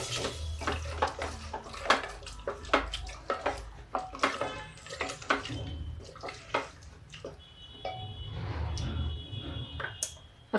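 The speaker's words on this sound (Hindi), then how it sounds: "अब इसमें स्वाद के अकॉर्डिंग हम पानी डाल देते हैं।" Water poured into a simmering mixed-vegetable gravy with water chestnut, sweet potato and eggplant, heard as close splashing and trickling bursts with clinks of a utensil against the pot.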